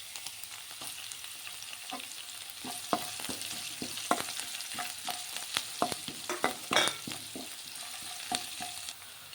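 Pieces of ginger, onion and green chili fry in hot oil with a steady close sizzle, broken by repeated scraping and stirring clicks from a spatula throughout.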